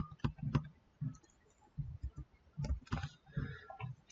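Someone types on a computer keyboard in quiet bursts of soft clicks, uneven and close, with pauses between runs of keys.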